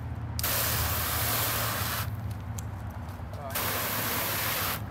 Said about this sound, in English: We're gonna spray it again, and then I'm gonna spray it with a wheel cleaner.